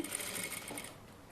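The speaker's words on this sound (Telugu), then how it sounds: "సో వీటిని ఇప్పుడు ఇలా పైకి పెట్టేసి మళ్ళీ డబుల్ స్టిచ్ అయితే వేస్తున్నాను" A sewing machine double-stitches dress frills in a short, quiet whirring run that tapers off toward the end, with no talking.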